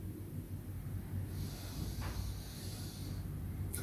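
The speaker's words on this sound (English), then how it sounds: "Just taking a few breaths here." During a calm breathing exercise, one slow, faint, airy breath drawn in and let out close by over a low background hush.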